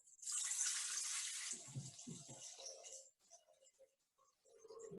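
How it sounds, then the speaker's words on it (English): Warm water pours from a tap into a mixing bowl for pita bread dough, a bright splashing stream for about a second and a half that then tapers into gurgles and drips. "So we are putting in here about 620 grams of water."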